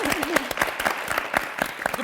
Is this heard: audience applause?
yes